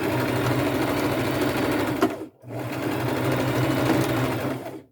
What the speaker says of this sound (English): And then I'll just zigzag stitch.